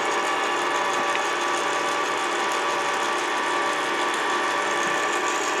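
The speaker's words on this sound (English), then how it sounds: "Just an amazing time saver these tapping heads are." An old power tapping head cuts threads into holes in 316 stainless steel, giving a steady, loud mechanical whir and drone that holds evenly throughout, with no talking.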